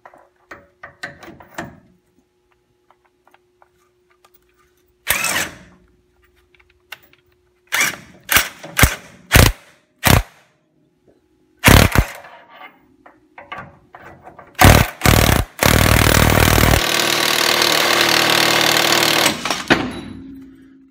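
A pitman arm removal tool works on a Ford Bronco's steering box pitman arm in a quiet garage. Sharp, separated bursts of mechanical rattling and clanks come first, then a sustained loud grinding burst before the arm comes off.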